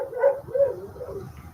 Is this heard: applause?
no